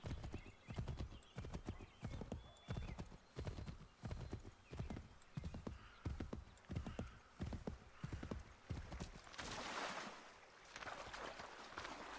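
A horse gallops in Assassin's Creed 3, with loud, rhythmic hoofbeats close by over several seconds, a neigh, and then a splashing wash of water as the pounding fades.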